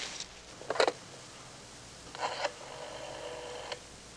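Telephone being picked up and dialed, with a short clattering handset sound followed by faint tones and clicks from the dial in a quiet room.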